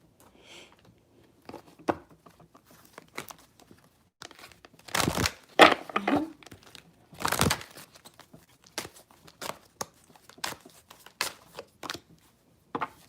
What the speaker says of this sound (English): I'm going to pull from the Magical Mermaids cards.